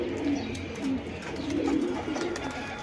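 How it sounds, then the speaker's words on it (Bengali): A pair of khaki high-flying pigeons coo softly in repeated low, rolling phrases against a steady background hiss, with faint chirps mixed in. "এখানে এক জোড়া খাকি গররা কবুতর আছে"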